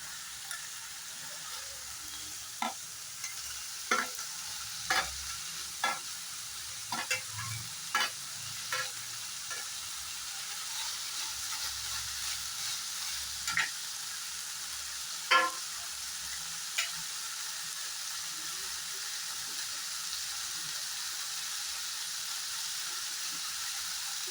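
Vegetables with capsicum and green chillies frying in a pan for chicken fried rice, a steady faint sizzle broken by a series of sharp stirring scrapes and clinks spaced a second or two apart.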